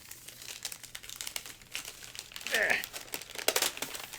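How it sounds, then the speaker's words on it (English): Wax paper crinkles and rustles as it is peeled off a new electric guitar, making soft, irregular close crackles with a louder burst partway through. "Let me get this wax paper off."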